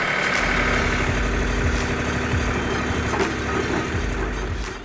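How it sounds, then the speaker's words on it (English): A skid steer engine idles steadily at close range, a continuous low rumble with a faint mechanical hum, holding level throughout before tapering slightly at the end; no one speaks. "we have to move the forks on the skid steer as far out as possible"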